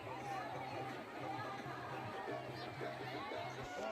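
A large crowd gathers at a riverbank in Bihar for Chhath Puja in the early morning, a continuous distant murmur of many voices blending into a steady, faint babble with no single voice standing out.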